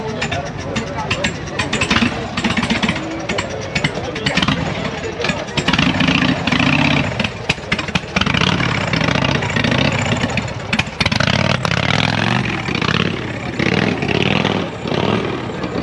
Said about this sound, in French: écoutez-moi ce ralenti, là. C'est quoi ce ralenti indécent?